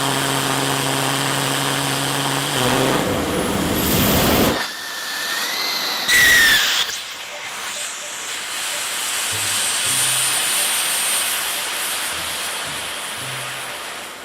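Homemade rocket engine fired at full throttle: a loud, sustained roaring hiss with a rising whistle, cut by sudden bursts, then fading into a quieter lingering hiss.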